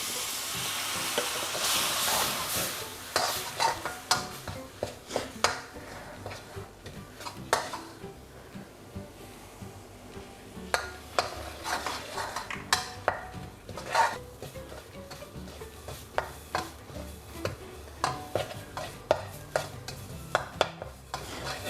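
Red chili curry paste is stir-fried in a pan with splashes of water and a little coconut cream for a spicy wild boar dish, sizzling steadily under repeated scraping and clinking stirs, close, with no talking.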